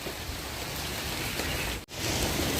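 Heavy rain pours down in a village during strong winds, a loud, dense, steady hiss that drops out for a split second before returning at full strength.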